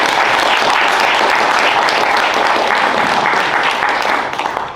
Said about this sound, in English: I just want to give a round of applause to him.